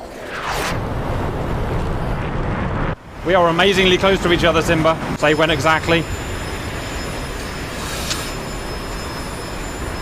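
A fighter jet engine in the DCS flight simulator game gives a steady, loud roaring rumble throughout, while someone talks over it.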